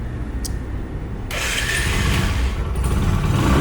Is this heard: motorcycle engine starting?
yes